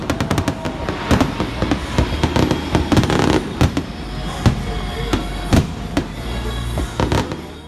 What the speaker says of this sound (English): And the night finished with a fireworks show.